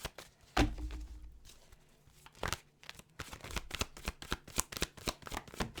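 Tarot cards being shuffled, a soft riffle after a thump, then a run of quick crisp flicking bursts growing denser toward the end, close and fairly quiet.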